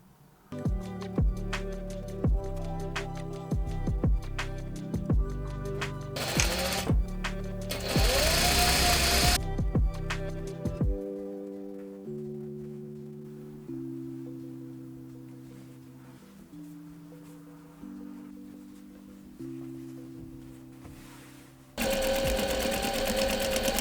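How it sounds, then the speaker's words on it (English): A domestic sewing machine rough-stitches a pleat on an upcycled men's shirt, close bursts of rapid mechanical whirring that start and stop, followed by a quieter humming stretch and a final loud burst. "I've got a pleat here which I'm just going to quickly rough stitch"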